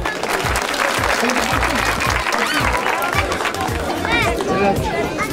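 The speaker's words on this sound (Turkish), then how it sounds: "Alkış." Theatre audience applause during a raffle drawing at a Turkish theatre, loud continuous clapping with chatter and children's voices mixed in throughout.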